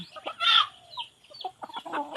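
Chickens clucking nearby in short, uneven bursts, with one louder squawk early on, then scattered soft clucks and chatter from the flock against a quiet background.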